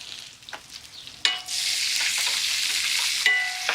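Butter and sage sizzle in a hot pan as veal chops cook, starting with a few light taps, then bursting into a loud, steady, close crackling hiss that holds to the end.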